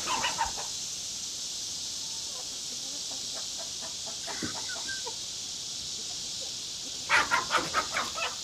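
A Sussex hen in a coop gives soft clucks, a few scattered early on and then a short run of close, rhythmic clucking near the end over a steady background hiss.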